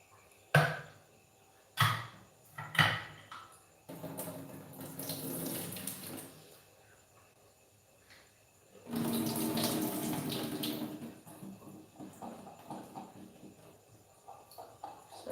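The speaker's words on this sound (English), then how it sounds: "we're just trying to empty the water out and just have our corn nice and ready" Water drains from an opened can of corn into a sink, heard as several short sharp splashes followed by two longer gushing pours, fairly near with quiet gaps between and no talk.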